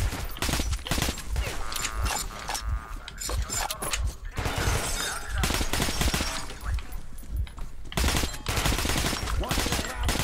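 A firecracker thrown in the Metro: Last Light video game bursts into a loud, continuous crackle of rapid blasts and bangs, mixed with game noise for the whole stretch.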